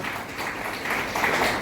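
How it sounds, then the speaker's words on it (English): An audience applauding the school chairman at his birthday celebration, a short burst of steady clapping that swells slightly toward the end. "Could you please give a big round of applause"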